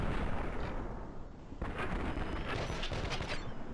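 Enemy gunfire in Fallout: New Vegas, a run of sharp shots and booming reports over a dense roar of game noise, loud and continuous for the whole stretch.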